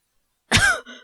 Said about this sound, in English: I heard Okita begin to cough